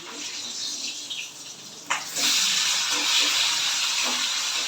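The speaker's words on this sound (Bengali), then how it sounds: "এবার মাছটা ভেজে নিচ্ছি" Rohu fish frying in a pan: a steady, fairly loud sizzling hiss that jumps up sharply around the middle and keeps going, with no one talking.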